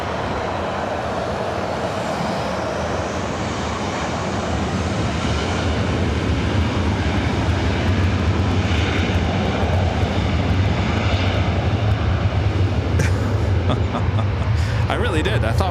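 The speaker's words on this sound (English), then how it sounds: "I can't pass on the 777 at 300 ER takeoff here on the north side" A Boeing 777-300ER jet takes off from the north side runway at LAX, its engines building into a loud, sustained roar that swells and holds, with voices talking beneath it.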